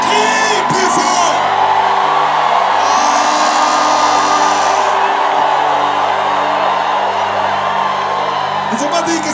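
A large crowd shouts and yells loudly at a church crusade, a continuous roar of many voices with a preacher's voice carried over it throughout.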